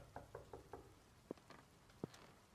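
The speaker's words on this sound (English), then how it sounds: "Well, another door just opened." A door opens somewhere in the video game The Beginner's Guide, a faint series of mechanical knocks and clicks, four quick taps followed by a few sharper, spaced clunks, heard alone.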